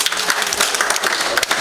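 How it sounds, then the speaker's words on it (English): A round of applause from attendees at a community monitoring dialogue meeting in the Busoga region, loud, dense clapping from a crowd, sustained and fairly close, with no talking over it. "Can we have a round of applause?"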